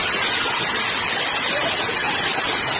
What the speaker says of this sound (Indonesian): Jadi orang setempat menyebutnya ini adalah air terjun barat